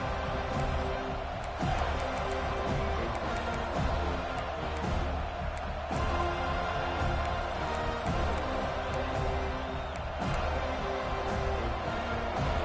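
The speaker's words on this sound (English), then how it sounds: "This crowd knows this defense needs them right now." A stadium crowd cheers steadily in a football video game, a loud continuous roar of fans with little change across the whole stretch.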